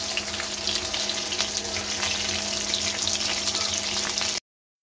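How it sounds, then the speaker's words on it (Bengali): Chicken pakoras deep-frying in a wok of oil, one side already turned, give a steady, dense sizzling hiss that runs without a break at close range, then cuts off abruptly. "এই যে কড়াই আমার হচ্ছে একদম চিকেন পকোড়া, এক পিঠ উল্টে দিয়েছে আর এক পিঠ হচ্ছে।"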